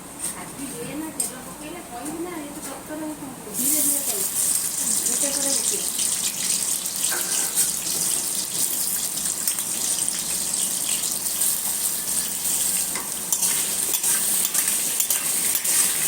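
Potatoes fry in hot oil for a mutton curry, a steady loud hiss and crackle that starts abruptly a few seconds in and runs continuously, with a voice talking over the first part.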